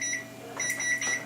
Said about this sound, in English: my timer is just about to go off.